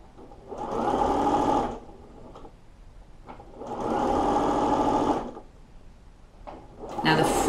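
A sewing machine stitches dress lining in three bursts of steady whirring, each a second or two long, with quiet pauses between them, close and clear.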